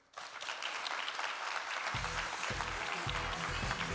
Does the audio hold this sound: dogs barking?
no